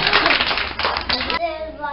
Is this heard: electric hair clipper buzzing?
no